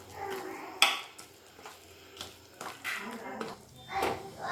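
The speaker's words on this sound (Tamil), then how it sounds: "இப்போ எல்லாத்தையும் கலந்துப்போம்." Kunukku batter with coriander and asafoetida being mixed in a bowl, uneven scraping and clinking of a spoon against the vessel in short bursts, fairly close, with no speech.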